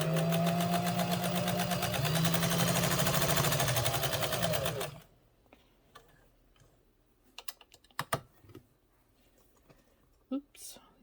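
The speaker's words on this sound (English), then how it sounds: "we got the bobbin thread up over to the edge of my sample material, and let's start sewing" A Kenmore 117.959 sewing machine stitching through sample material, running as a fast, even mechanical whir for about five seconds before stopping, followed by soft handling clicks and quiet rustling.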